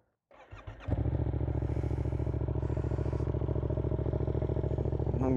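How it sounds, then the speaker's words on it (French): Close motorcycle with an SC Project exhaust: a cranking starter catches and the engine fires into a loud, steady, throbbing idle that holds evenly to the end. "le son du SC Project Chicané"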